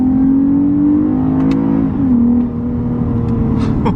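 A 2021 Lexus IS350 compact sports sedan with a naturally aspirated V6 revs loudly and close, rising steadily, dipping briefly, then climbing again, with no talk over it.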